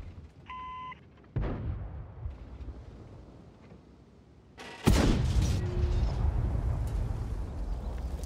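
Tank cannon fire in World of Tanks, aimed at bushes: a loud boom around the midpoint followed by a second heavy blast and long rumbling roar, with short electronic game beeps near the start.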